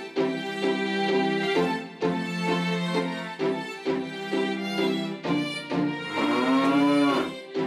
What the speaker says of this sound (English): And the carrot mooed like a cow.